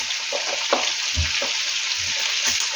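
Chopped onion drops into a hot pan and sizzles steadily, a dense continuous frying hiss with a few soft stirring knocks, close and moderately loud, while meat cooks for a Ukrainian buckwheat-with-gravy dish.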